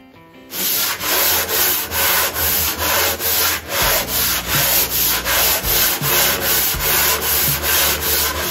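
Sanding on a Darex wooden jack plane during restoration, heard as steady rhythmic back-and-forth abrasive strokes, close and loud, about a dozen even passes with no talking.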